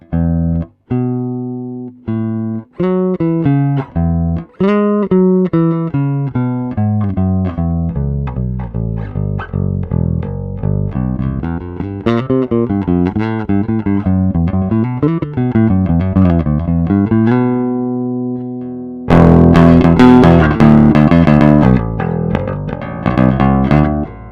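A Rickenbacker 4003 electric bass with a capacitor in its vintage tone circuit plays a melodic line of plucked notes, warm and rounded, moving up and down before ending with a busier, brighter passage.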